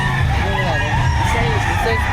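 Roosters and hens at a chicken market in Batangas fill the air with a dense chorus of crowing and clucking over low traffic rumble, while people talk nearby throughout.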